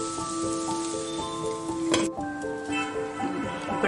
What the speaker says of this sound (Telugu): సో మన మసాలాలన్నీ మంచిగా ఫ్రై అయిపోయాయండి